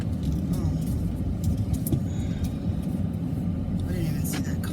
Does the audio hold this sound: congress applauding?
no